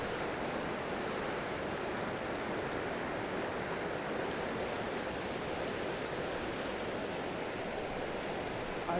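Steady broadband rush of an Arctic river flowing in remote northern Norway, heard up close from the roadside as a constant, even roar with no voices over it.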